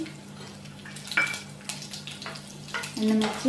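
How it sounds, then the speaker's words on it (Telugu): Sizzling crackle of mustard seeds, cumin, dried red chillies and seasoning lentils dropped into hot oil, with clinks of a utensil against the pan and a steady hum underneath. "ఇప్పుడు ఆయిల్ వేడైంది, మనం పప్పు దినుసులు వేసేసుకుందాం."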